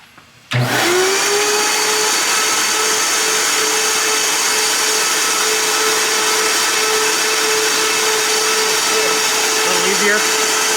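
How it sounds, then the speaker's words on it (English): A shop vac roars steadily and loudly for nearly the whole stretch, drawing air through a cylinder head on a flow bench while testing small block Chevy aluminum heads, with a sharp start and a constant whine throughout. "Shop vac got a little pissed."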